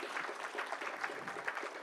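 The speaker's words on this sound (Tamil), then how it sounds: "அவருக்கு ஒரு நல்ல பலத்த கைத்தட்டல் தட்டிடலாம்." Audience applause at a Salangai Pooja dance event, a brief, moderately faint burst of many hands clapping in a dense, even patter.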